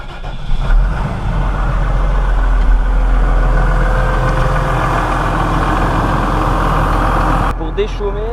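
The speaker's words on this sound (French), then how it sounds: "je vais faire chauffer le tracteur quelques minutes" Farm tractor engine idling steadily in the morning while warming up before disc stubble cultivation, a continuous loud low rumble that holds evenly for several seconds and then cuts off near the end with a brief knock.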